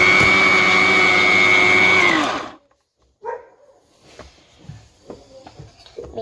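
Mixer grinder whirring loudly and steadily for about two seconds while grinding garlic, then stopping abruptly, followed by quiet handling clatter nearby.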